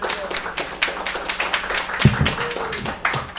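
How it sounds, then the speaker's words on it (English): Scattered applause fills a conference hall as a presenter is welcomed to the stage, a loose patter of claps with a few sharper taps rising and falling throughout. "Round of applause, please"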